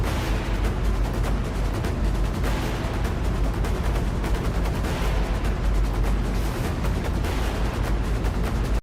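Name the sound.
explosions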